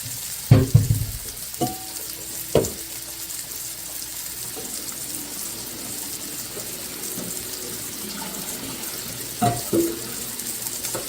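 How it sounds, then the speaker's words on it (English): Chicken and rice sizzle in a skillet over raised heat, a steady broadband hiss running through the whole stretch, broken by a few louder clanks and scrapes near the start and again toward the end. "Chicken's in there sizzling."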